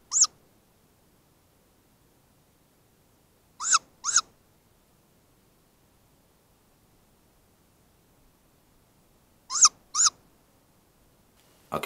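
Great grey owl calls sounding alone in a quiet setting, heard as short paired bursts spaced several seconds apart, fairly close and clear against near silence.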